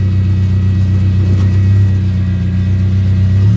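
A car engine rumbling loud and close from inside the vehicle, a deep steady drone that swells slightly as it revs during a final lap, with no voices over it.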